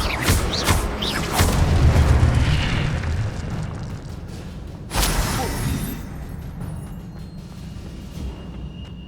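An Incendio fire spell cast in Hogwarts Legacy, heard as two fiery whooshing bursts several seconds apart over a low rumbling game ambience, with no voices.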